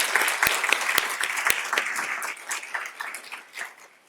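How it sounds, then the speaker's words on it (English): An audience applauds a mass choir at a Black History Month celebration, starting with a few sharp, distinct claps and then thinning into scattered, steady clapping that fades toward the end. "Can we offer another round of applause for the Frederick County Mass Choir and Hannah Chandler"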